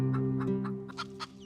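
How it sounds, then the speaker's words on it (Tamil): A mother hen clucks several times in short, close bursts, her soft calls rising over a steady low hum of background noise. "தாய்கோழி ஒரு சின்ன அபாய ஒலி ஏற்படுத்திட்டா போதும்"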